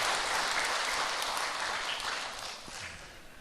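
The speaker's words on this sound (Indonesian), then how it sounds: "Tepuk tangan untuk keluar biasaan ini." Audience applause at a launch event for an educational foundation, a broad wash of clapping from a crowd, fairly faint and distant, tapering off toward the end.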